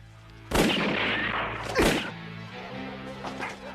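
Two sharp, loud gunshot-like blasts ring out about a second apart in the film Police Story, with echoing tails over a low musical background.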